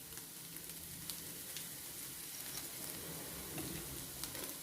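Egg curry masala fries in a pan, a soft, continuous sizzle with faint crackles and light stirring scrapes, fairly quiet and close, with no voices.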